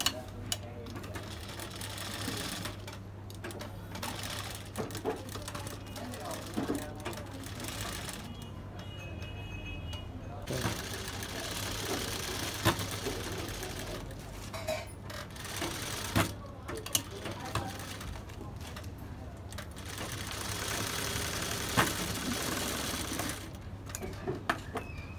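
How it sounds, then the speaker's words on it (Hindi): Sewing machine running a loose tacking stitch along the hem of a gharara, a steady close rhythmic clatter of needle strokes with brief pauses and restarts throughout. "अब इसके नीचे से तुरपाई के लिए इसमें हम एक सिलाई लगाएंगे कच्चा।"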